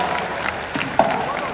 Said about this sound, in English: Please, once again, give them a big round of applause.